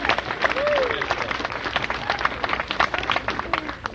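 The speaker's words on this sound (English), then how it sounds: "Isn't that nice when people applaud?" An audience applauds at the 1973 dedication of the W.S. Berger Memorial Building, dense clapping that holds steady from start to finish, with a faint voice rising over it early on.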